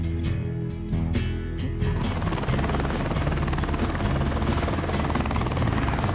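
A loud helicopter thumps and whines close by at a landing site beside a service yard, its rotor chop building into a dense, steady roar that fills the whole stretch.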